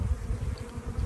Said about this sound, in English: The bees are climbing onto the branch